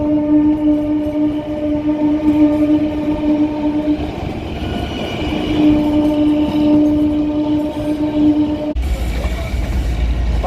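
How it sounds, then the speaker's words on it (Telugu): The Kalka–Shimla toy train passes close by on its mountain line near Shimla, a loud, continuous rumble of wheels with a long sustained horn blast over it and a sudden heavier low roar near the end. "సరే ట్రైన్ వెళ్ళిపోతుంది, ఆగండి."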